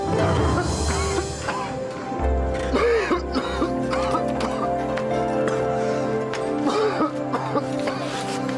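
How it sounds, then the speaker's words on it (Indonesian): Repeated harsh coughing fits, close and loud, scattered across several seconds with short pauses and some throat-clearing between bursts. "Dari kemarin kamu batuk terus."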